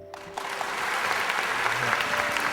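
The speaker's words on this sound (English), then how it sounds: "Yeah, you can clap for that." An audience claps at a talk, the applause starting after a brief quiet moment and quickly building to a dense, steady patter that holds to the end, with a voice faintly heard early on.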